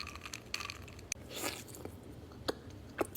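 Someone bites and chews a stroopwafel sandwich cookie with caramel filling, giving soft close crunches and mouth sounds in a few bursts, with no talking.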